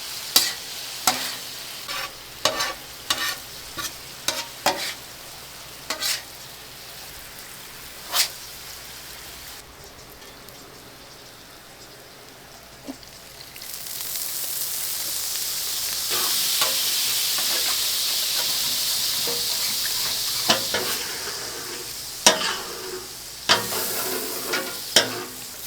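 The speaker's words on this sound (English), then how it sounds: "Now we're reducing the sauce." Sauce reducing on a hibachi griddle with chicken, scraped and stirred with spatula clacks early on, then a loud steady sizzle rising midway and holding to the end, with more sharp metal taps near the close.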